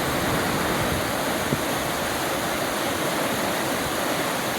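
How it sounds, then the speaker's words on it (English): A river rushes beside Alder Flats Trail, its water making a steady, loud, broadband roar that holds constant throughout with no voices. "There you go. Rushing water."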